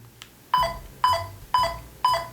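A Xeno3 RGB lightsaber gives four regularly spaced electronic beeps while turning clash effects back on, each a crisp tone with a brief low thump, heard clearly against quiet background.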